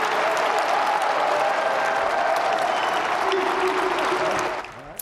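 A big, enthusiastic crowd applauds Detroit Mayor Duggan after his 10th State of the City address in Corktown, with loud, dense clapping that holds steady and then fades out near the end.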